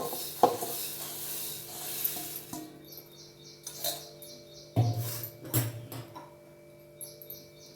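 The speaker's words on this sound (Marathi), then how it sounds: "मुरमुरे हे सर्व ह्याच्यामध्ये टाकून द्यायचे." Puffed rice (murmura) tossed with salt in a bowl for a bhel snack, producing dry rustling and rattling stirs with a few sharp clinks of the spoon against the bowl, fairly close and with no talk.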